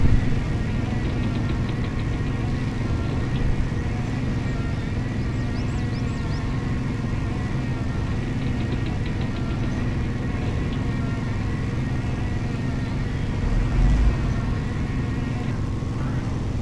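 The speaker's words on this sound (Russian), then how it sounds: "включаю лебедку, выключаю ручник" A MAZ 7310 truck in the off-road driving game Spin Tires revs its engine while the winch pulls, giving a steady, loud, low-pitched drone with rattling vibration that holds throughout and swells briefly near the end.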